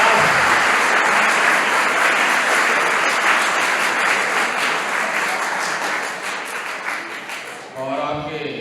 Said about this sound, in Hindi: एक बार अपने टीचर्स के लिए, अपने पेरेंट्स के लिए जोरदार ताली बजाइए